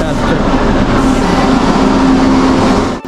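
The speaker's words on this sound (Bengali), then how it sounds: "আর এই যে ট্রেনটা আসছে।" A high-speed train on the Rome to Venice route pulls into a station platform, giving a loud, steady rumble with a faint sustained tone that cuts off abruptly near the end.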